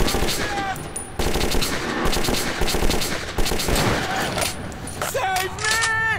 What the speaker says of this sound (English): Shoot them! You shoot them!